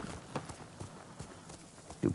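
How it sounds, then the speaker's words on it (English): A horse's hooves clip-clop in the video game Ghost of Tsushima, a faint, steady series of hoofbeats, with a louder thump near the end. "Come here, you goofy horse."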